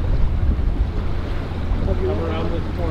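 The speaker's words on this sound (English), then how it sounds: "today we are sailing to New York for the sunset" A sailboat under way on Long Island Sound between Connecticut and New York, with steady wind rumble buffeting the microphone over continuous wash and slosh of water along the hull, close and fairly loud throughout.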